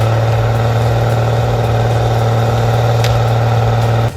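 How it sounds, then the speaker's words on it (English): A John Deere 640H skidder engine labors under load in low gear on a logging hillside, a loud, steady droning hum with a strong low tone that holds for about four seconds before dropping off. "That John Deere 640H bites into the hillside like it owns the mountain. Timber chained tight, engine screaming in low gear."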